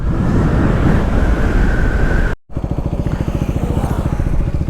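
Heavy wind buffets the microphone in a loud, steady roar while a KTM Duke 390 motorcycle rides at highway speed; after a brief cut, the engine's pulsing drone comes through under the wind.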